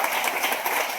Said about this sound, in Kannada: ಚಪ್ಪಾಳೆ ತಟ್ಟಬೇಕು ಜೋರಾಗಿ.